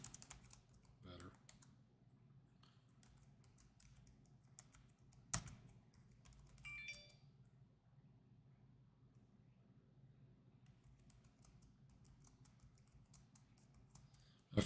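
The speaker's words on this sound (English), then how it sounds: "Wish this keyboard would work" Quiet, steady clicking of computer keys runs through the whole stretch, with a few louder knocks and a squeaky chair nearby, close up and otherwise fairly still.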